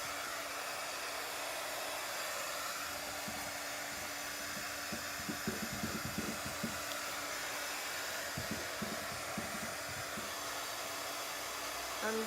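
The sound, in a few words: hair dryer drying paint on a table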